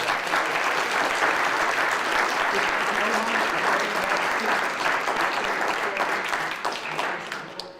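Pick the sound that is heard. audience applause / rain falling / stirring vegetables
audience applause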